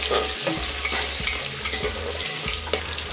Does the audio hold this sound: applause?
no